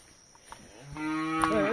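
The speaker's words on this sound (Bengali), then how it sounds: "গরু গরু" A cow moos loudly and close by in a rural village setting, a single long drawn-out call that swells and wavers near the end, rising over quiet outdoor background.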